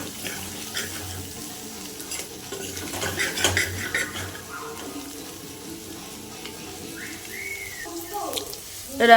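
Egg fried rice with salt and coriander powder is stirred in a pan, a utensil scraping and clinking against the metal in uneven strokes, close and moderately loud, with a few louder knocks near the end.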